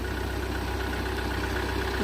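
A tractor engine running close by while dead ash trees are being cleared in dry summer heat, a steady low idling drone with a faint rhythmic knock and no voices.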